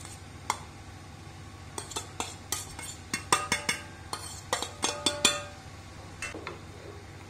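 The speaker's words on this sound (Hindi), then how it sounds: "अब हम इसे अच्छी तरह मिक्स कर लेंगे इसमें" Spatula clinks and scrapes against a pan as grated paneer is mixed with spices for shahi matar paneer, with a steady run of close, irregular metallic taps over a low hum.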